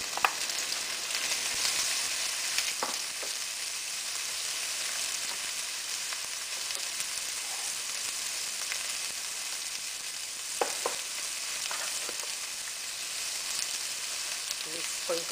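Carrots and sweet pepper stir-frying for turkey fried rice, a loud continuous sizzle close up, with occasional scraping and tapping from stirring scattered through.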